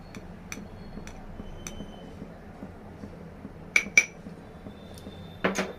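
Cabbage and chana dal curry stirred in a pot with turmeric, giving faint scattered clinks and ticks of a utensil against the pot, a few sharper scrapes near the end, with no talking.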